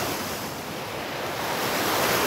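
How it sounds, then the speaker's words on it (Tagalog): Strong ocean waves surge and break in a loud, continuous wash of surf with some wind rushing across the microphone, building slightly toward the end with no voices. "biglang lumakas yung alon"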